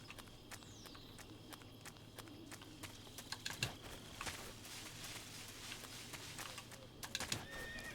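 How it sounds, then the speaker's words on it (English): In the video game Metal Gear Solid 3, hooves clip-clop in a steady rhythm, and a horse whinnies briefly amid the faint ambience. "Horse."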